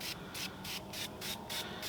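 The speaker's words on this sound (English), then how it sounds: "spray the aerosol can because I don't want it on their full strength" Bursts of hissing aerosol spray on a dirty car in a steady rhythm, about seven short pulses with brief gaps between them, close up.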